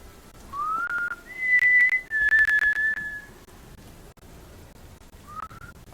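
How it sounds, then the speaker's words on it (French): A rising, eerie whistle like wind through a creaking door, in several drawn-out tones that swell loud and fade, with a brief faint final whistle over a low background hiss. "T'entends un sifflement?"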